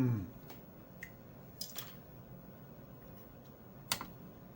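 Cutters snipping cable ties inside an arcade cabinet while fitting a Pac-Man multi high score save kit, a handful of sharp, isolated clicks spaced apart over a quiet room.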